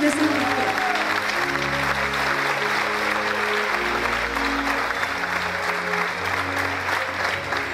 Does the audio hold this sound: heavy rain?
no